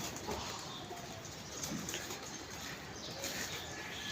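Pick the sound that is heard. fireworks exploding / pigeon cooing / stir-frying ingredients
pigeon cooing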